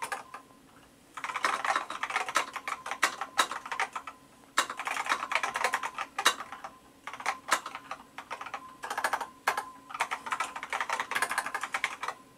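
Fast typing on a NABU computer keyboard, bursts of rapid clicking with short pauses between, close and clear with no voices.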